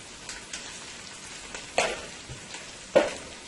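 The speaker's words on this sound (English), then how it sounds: "I'm going to let this fry with the oil, the garlic, the brown jeera" Garlic and brown cumin seeds frying in oil, a soft, steady sizzle with a few louder crackles and stirring taps, heard alone without speech.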